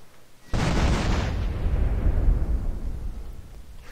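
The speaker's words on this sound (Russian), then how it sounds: "Взрываем нахрен." A big explosion in GTA San Andreas bursts in suddenly and loudly after a brief quiet, then rolls on as a broad rumbling blast that slowly fades.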